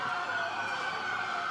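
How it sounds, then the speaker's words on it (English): Police sirens wail at an outdoor press gathering, a steady sustained tone, moderately loud and unbroken, with no speech over it. "Get all the police sirens in the back for dramatic effects"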